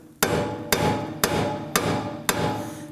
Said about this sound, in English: tap this wheel hub to knock it out of the knuckle itself